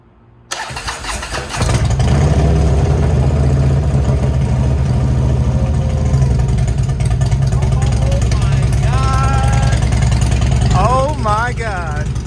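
A Harley CVO motorcycle engine, bought salvaged, cranks on a battery jump and catches, then settles into a loud, close, steady idle while voices talk excitedly over it near the end.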